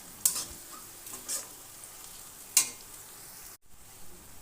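Softened onions and bay leaves fried in a pan, a soft continuous sizzle with a few sharp spatula scrapes and clicks spaced apart, close by.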